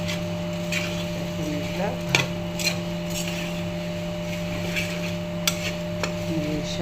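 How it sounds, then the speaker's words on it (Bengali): Puffed rice tumbled into a pan and stirred, giving a soft, steady dry rustle with a few sharper clinks and scrapes, over a constant low hum; a voice speaks briefly. "এই যে মুড়ি দিচ্ছি"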